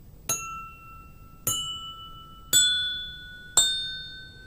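Four gentle taps on glasses holding different water levels, each a clear ringing ding with a sustained tone that slowly fades, evenly spaced about a second apart and heard alone, the pitch shifting from glass to glass.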